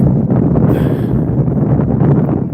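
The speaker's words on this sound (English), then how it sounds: "Alright, it's really windy." Strong wind buffets the microphone at a truck stop in Texas in a continuous low, rumbling roar, loud and close, with no voices.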